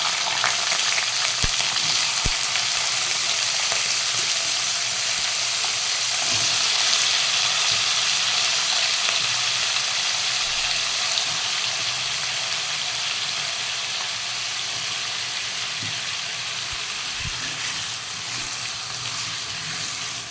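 Potatoes fry in hot oil with cumin and mustard seeds, giving a steady, close sizzle throughout, broken now and then by faint knocks of stirring.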